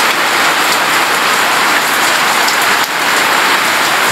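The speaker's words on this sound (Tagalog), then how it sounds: "nabuhos na naman po yung malakas na ulan" Heavy rain pours down outdoors, a loud, steady hiss of drops drumming on surfaces close by and filling the whole scene without letup, with no voices.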